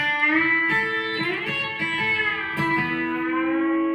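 A twangy electric guitar lick played with a B-bender, in which bent notes glide up into each other and ring together, played alone and clearly.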